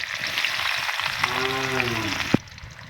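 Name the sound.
chopped onion added to hot oil, frying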